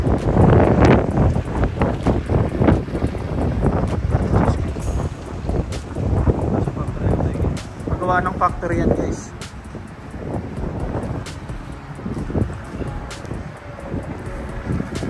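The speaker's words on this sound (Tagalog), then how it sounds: "Mahangin dito sa labas." Strong wind blows outdoors during snowfall, rumbling and buffeting the microphone in uneven gusts while someone talks over it.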